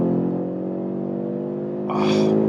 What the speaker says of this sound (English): That 5-cylinder engine.